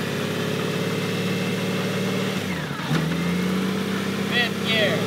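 A 2005 Honda Goldwing GL1800A motorcycle runs steadily nearby, its engine dipping and then recovering as it shifts down through the gears, with a short voice heard near the end.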